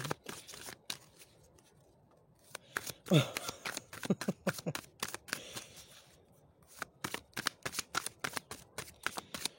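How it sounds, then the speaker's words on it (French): Oracle cards featuring magic trees are shuffled by hand in rapid riffling bursts, a close crisp flutter of cards that pauses briefly before resuming in quick, even flicks, with a voice faintly present in the background. "Je vais vous tirer une carte conseil avec les arbres magiques."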